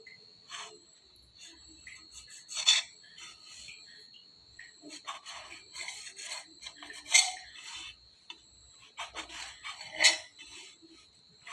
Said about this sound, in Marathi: आता हा ब्रेड आपण कट करून घेतला या ठिकाणी.